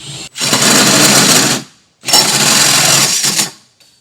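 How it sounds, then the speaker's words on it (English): A 4-inch hole saw cuts through metal on a 2024 Chevrolet truck bed during a B&W Companion sliding 5th wheel hitch install, with two loud sustained grinding bursts of about 1.5 seconds each separated by a brief pause. "we're going to step it up to our 4-inch hole saw"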